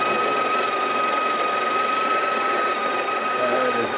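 Breville coffee grinder grinding beans on its finest setting, a loud, steady, high-pitched mechanical whir holding a constant tone throughout.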